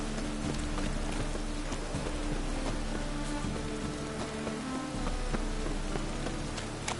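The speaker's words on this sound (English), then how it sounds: "Rain again." Steady rain falls in The Witcher 3, a dense patter of drops striking surfaces, with scattered sharper splashes over a continuous hiss.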